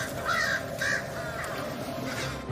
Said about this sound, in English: the massive crow roost drawing attention in one Ottawa neighborhood